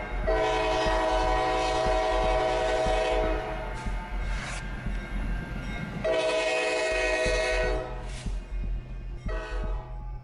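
A fast train nears a railroad crossing, sounding long, loud blasts of its horn over a steady rolling rumble, with a shorter blast toward the end.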